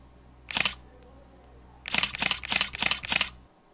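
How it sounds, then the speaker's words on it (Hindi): Camera shutter sound effects: one crisp, isolated click, a pause, then a quick burst of five rapid shutter snaps in a steady rhythm, clear and close with no talk. "ये कैमरा शटर का है, फिर ये भी कैमरा शटर ही है"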